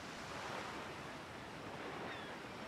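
Sea waves wash steadily in an island adventure game, a soft, continuous surf hiss with a windy edge and no talk.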